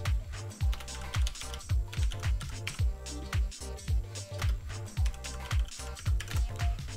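Rapid typing on a computer keyboard while entering commands into a root shell, a steady run of close, crisp key clacks with short pauses and no talking.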